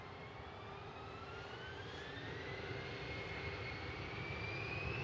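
A jet airliner, flight 941 bound for Frankfurt, roars at Manchester Airport, a steady distant engine rumble with a rising whine that slowly grows louder, with no voices.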